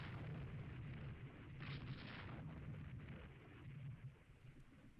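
Distant naval gunfire from battle cruisers during a night action in the video game Rule the Waves 3, heard as a low rumbling boom and muffled crackle over a steady dull background roar.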